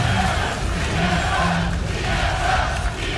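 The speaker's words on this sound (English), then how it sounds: "You can hear the crowd." Esports arena crowd at a 2014 NA LCS League of Legends match roaring as TSM wins, a loud, sustained wall of cheering and yelling from a packed audience that swells slightly and carries on throughout.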